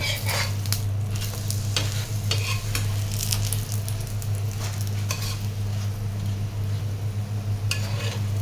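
Semolina cooking in a pan for a village breakfast, giving a steady sizzle with scraping stir strokes throughout and a constant low hum beneath, close and continuous.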